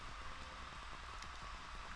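Steady rain falls in a video game, a dense, even hiss of drops pattering on surfaces throughout, with no talk over it.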